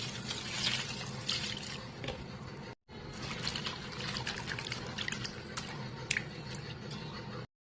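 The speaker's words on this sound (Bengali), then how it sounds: "তো বন্ধুরা, আবারও আমি শাক ধুয়ে নিচ্ছি।" Dhenki greens are rinsed by hand in water, producing faint, continuous splashing and trickling with scattered drips, briefly interrupted by a short silence partway through.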